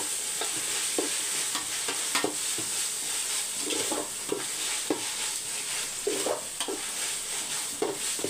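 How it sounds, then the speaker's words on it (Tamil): Green chillies and mint sizzle in hot oil in a pan, with steady bubbling frying and a spatula scraping and tapping at intervals throughout. "ஒரு 5 நிமிஷம் வதக்கி எடுத்துக்கோங்க."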